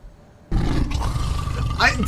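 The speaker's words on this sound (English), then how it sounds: "It almost sounds like a lion's roar." A deep, loud roar like a lion's from the video game The Wolf Among Us, breaking out suddenly and holding for over a second, mixed with voices talking over it.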